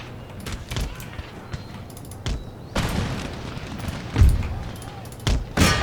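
Musket volleys and artillery booms in the Empire: Total War video game, heard as scattered sharp cracks and heavier thuds spread across the moment, mixed with battle noise and a voice talking.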